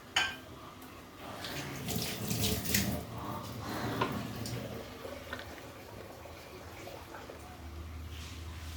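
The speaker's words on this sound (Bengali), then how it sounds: "গরম জল দিয়ে দেবো" Hot water pours from close by into a pot of mutton dak bungalow curry, a soft splashing gurgle that swells for a few seconds and then trails off into a low hum, all fairly quiet.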